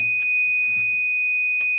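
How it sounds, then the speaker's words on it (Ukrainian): A Visench UPS VX-1200 with a LiFePO4 battery that won't switch on sounds a steady, shrill, continuous buzzer tone, loud and near, with faint clicks and low room noise beneath it. "І постійно пищить бузер."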